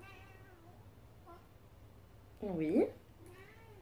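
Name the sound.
cat meowing in the room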